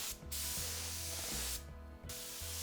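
Spray gun laying down duco car paint with the nozzle set to a wider fan: a steady, close airy hiss that breaks off briefly twice before resuming.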